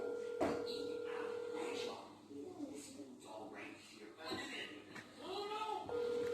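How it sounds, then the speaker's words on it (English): A telephone rings with a steady electronic tone that starts, breaks off and returns, heard under people talking and laughing nearby. "Toes, answer the phone, nigga."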